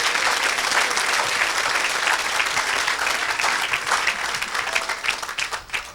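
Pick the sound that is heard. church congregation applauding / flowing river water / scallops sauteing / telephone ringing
church congregation applauding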